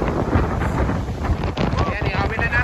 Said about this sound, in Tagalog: grabing hangin talaga